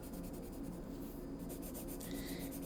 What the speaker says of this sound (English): Notice I'm using the pencil right over that oil pastel, and it sort of cuts right through it.